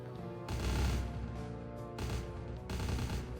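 Enemies trade gunfire in a shootout in the video game Vampire: The Masquerade – Bloodlines, with loud rapid bursts of shots at about half a second, two seconds and two and a half seconds over a steady din of game noise.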